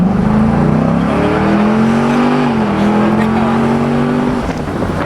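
A 2003 Cobra three-valve engine revs loudly and close, its pitch sweeping up and holding as the throttle is worked, with speech faintly present under the engine noise.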